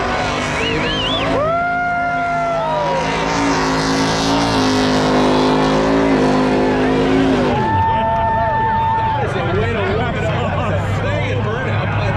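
Race cars at the Freedom 500 speed down the back straightaway, loud engines rising and falling in pitch as they pass close by, with announcer commentary over the roar.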